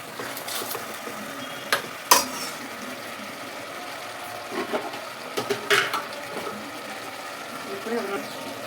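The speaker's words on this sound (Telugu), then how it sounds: "మటన్ మంచిగా ఆయిల్లో మటన్ బాగా ఫ్రై అవ్వాలి" Mutton in oil and masala on a cooking pot, heard as clinks and scrapes of a spoon stirring against the pan over a faint sizzle, close by, with a person talking intermittently.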